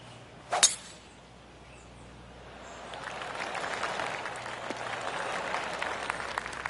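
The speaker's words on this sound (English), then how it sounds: "I can hear the golf claps around the course" In the video game PGA Tour 2K25, a short sharp burst near the start, then steady applause from a distant golf crowd swells in and continues, scattered claps blending into a broad wash.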